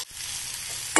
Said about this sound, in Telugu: అదే నూనెలో మనం ఈ వాక్కాయ ముక్కల్ని వేయించుకుందాం